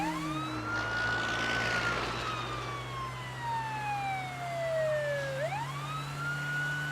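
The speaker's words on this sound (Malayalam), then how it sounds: "ആംബുലൻസ് വരുന്ന കണ്ടില്ലേ? നിർത്താൻ പറ." Ambulance siren approaching on a road, its wailing tone sweeping down and back up over a steady engine rumble, moderately loud and continuous with no talking.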